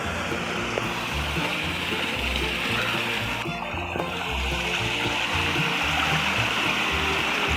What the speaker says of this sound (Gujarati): પાણીનો અવાજ કેવો સારો આવે.